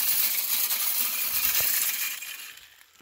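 A Moultrie game feeder flings corn in a dense, hissing patter of kernels lasting a couple of seconds, then fades out.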